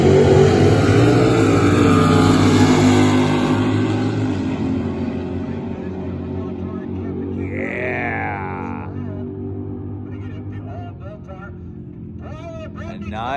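Drag race cars launch at a Saturday night race, a loud roaring engine sound that fades as they pull away, then a quieter rumble and a brief whine. An announcer talks over the sound.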